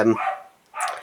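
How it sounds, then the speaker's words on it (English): A dog barks twice in the background, a short yip followed after a pause by a second bark, while a person talks close to the microphone. "sorry if you can hear my dog barking in the background"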